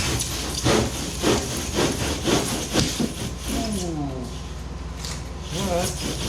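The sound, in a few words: saw cutting foam for a DIY kayak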